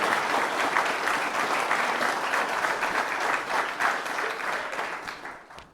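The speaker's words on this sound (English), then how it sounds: "I'm going to ask for a round of applause for you" A commemoration evening audience at a Naomh Pádraig club event gives a sustained round of applause, dense and steady clapping filling the room before tapering off near the end.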